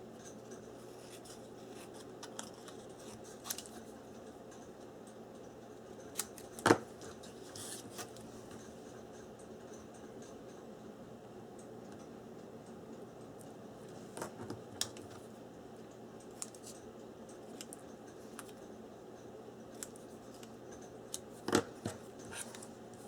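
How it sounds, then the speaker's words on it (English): Scissors snip through paper in short, sparse cuts, with soft rustling in between and a few sharper clicks, close and quiet. "I'm just going to cut with my scissors, so cut down here."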